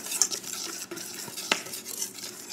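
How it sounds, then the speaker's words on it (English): Salt, baking powder and flaxseed whisked together in a bowl, a run of soft scraping strokes with a sharp clink of the whisk against the bowl partway through. "we're going to whisk these together"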